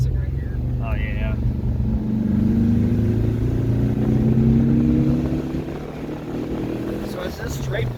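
A stock vehicle with its exhaust baffling removed drones loudly and steadily while driving, the engine note rising smoothly as it accelerates, then easing off near the end.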